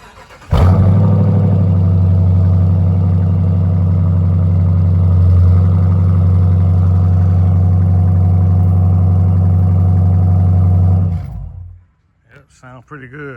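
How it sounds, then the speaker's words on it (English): A 1975 Chevy Nova with an LS engine swap and its mufflers removed cold-starts with a sharp catch, then idles loud and throaty at close range for about ten seconds before shutting off, followed by brief talking. "Let me get y'all a cold start of this."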